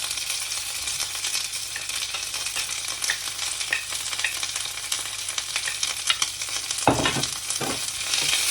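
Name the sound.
onions sauteing in a pan for dosa chutney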